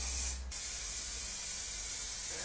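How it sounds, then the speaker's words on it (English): A can of acrylic spray paint hisses onto MDF in a steady, close burst after a short pause, producing a continuous bright aerosol spray. "I used the Montana Black acrylic spray paint"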